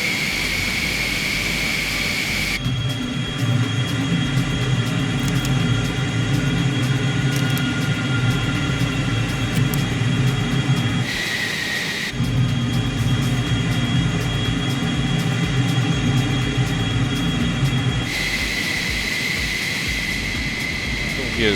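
Simulated F-14 jet engine roaring at takeoff power in Microsoft Flight Simulator, a loud sustained whine and rumble that cuts out briefly twice, giving way to a quieter tone between runs.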